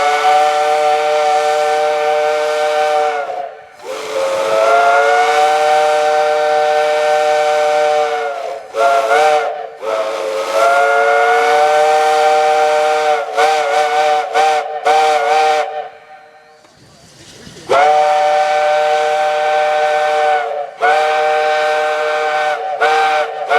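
A Southern Railway steam locomotive whistle blown at 160 psi, loud chime-like blasts with rich layered tones, several long sustained blows separated by short gaps and hissing steam, heard alone.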